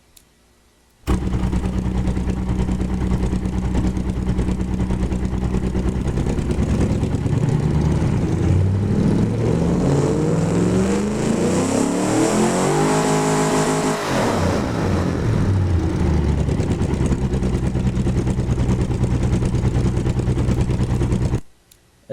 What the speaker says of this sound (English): This is definitely one of the better sounding engines that I've made.